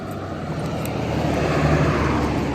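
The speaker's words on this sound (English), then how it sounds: "Loud truck." A loud truck rumbles past close by on a walk, a broad steady roar building slightly and holding for a couple of seconds, with no talking over it.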